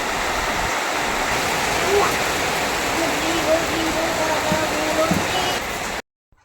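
Wind with light rain blows outdoors under dark cloudy skies, a steady broad rushing roar close to the microphone, with faint voices beneath it before it stops abruptly.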